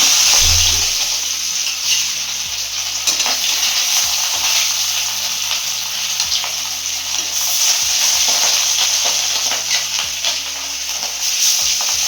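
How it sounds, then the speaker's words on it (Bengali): Fish fries in a pan of hot oil with loud, continuous sizzling and crackling, joined by occasional stirring scrapes and small clinks, close up and with no talking. "মাছ ভাজাটা বসিয়ে দিয়েছি ভাজা"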